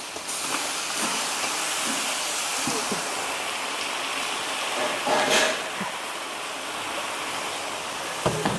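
Ginger garlic paste sizzling in hot oil, a steady loud broadband hiss that runs throughout, with a few brief clinks and stirring bumps near the end.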